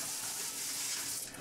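Tap water runs steadily into a sink to wash salad, a constant close hiss of flowing water with no pauses.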